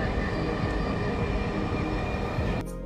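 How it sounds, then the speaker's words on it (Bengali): A Dhaka metro rail train speeds past, a continuous fairly loud rushing rumble that cuts off abruptly near the end. "পিছনে দেখতে পাচ্ছেন মেট্রো রেলটা খুবই দ্রুত গতিতে চলতেছে।"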